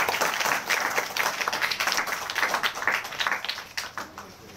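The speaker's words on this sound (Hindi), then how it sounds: "तो एक जोरदार ताली बजाओ बाबा" A crowd of children at a free school education event in Jiapur, Azamgarh, Uttar Pradesh claps loudly and steadily for several seconds, the dense applause fading slightly toward the end, with no speech over it.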